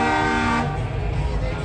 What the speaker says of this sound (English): the scooter's got the train horn